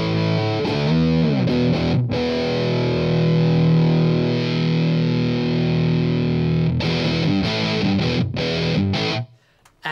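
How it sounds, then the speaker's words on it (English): Ram's Head-style Big Muff clone fuzz pedal on electric guitar, thick saturated sustained chords ringing loud and continuous, with a few choppy strums near the start and end before a brief drop to near silence. "So this is the Big Mudd, which is their Ram's Head Muff."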